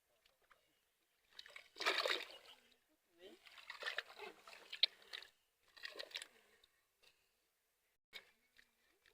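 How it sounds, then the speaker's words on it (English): Fresh cassava is being washed by hand in water, with bursts of splashing and sloshing in several short irregular spells separated by quiet gaps, close and moderately faint. "she gonna wash them until the water becomes white or unclear water"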